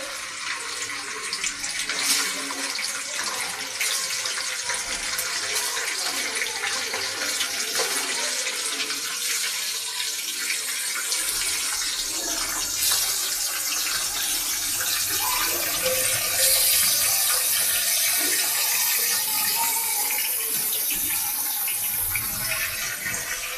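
Chicken pieces dropped into hot spices in a large cooking vessel for chicken biryani give a loud, steady sizzling hiss that runs unbroken for the whole stretch, with no talking over it.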